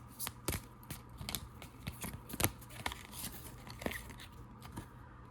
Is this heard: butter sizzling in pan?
no